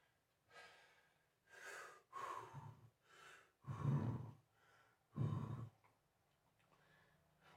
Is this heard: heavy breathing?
yes